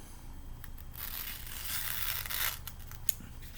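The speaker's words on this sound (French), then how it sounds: "Et je continue à couper l'intérieur." Scissors snip and tear through a worn sandal insole, a steady close crunching and rasping with a few sharper cuts, nobody talking.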